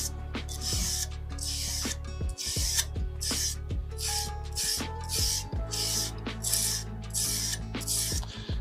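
A knife blade is hand sanded with sandpaper in brisk, rhythmic back-and-forth strokes, about a dozen close, raspy scrapes over a steady background hum.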